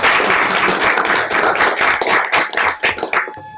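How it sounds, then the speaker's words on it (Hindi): Village meeting audience clapping hard for a woman, dense rapid applause from many hands close by, with no talk. "तो इनके लिए एक जोरदार ताली हो जाए"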